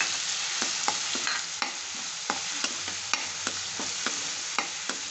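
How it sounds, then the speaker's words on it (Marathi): Chili-garlic paste frying in oil with a cumin tempering hisses continuously while a utensil scrapes and taps the pan in a regular stirring rhythm, close and clear, with no talking. "ती आपल्याला ह्या तेलात आणि जिऱ्याच्या फोडणीमध्ये ॲड करायची आहे"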